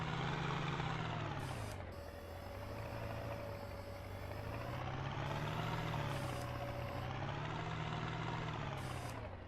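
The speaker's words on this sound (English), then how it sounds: "Always helps when you take the handbrake off there, Frank." A tractor engine in Farming Simulator 19 runs loud and steady, its low drone rising and falling in pitch as the machine pulls away, with a few short higher whirs layered over it.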